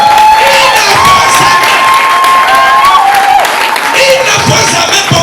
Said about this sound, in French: Applaudissez pour Dieu